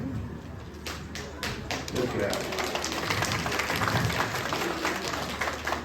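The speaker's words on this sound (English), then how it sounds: "give her another good round of applause for a job well done" Audience applause at a sheepdog herding demonstration, a loose patter of claps in an outdoor crowd with steady background noise and some talk throughout.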